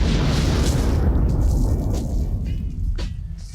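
A mine explodes in a war movie scene with a loud, close boom that rolls into a long rumbling decay, heard alone.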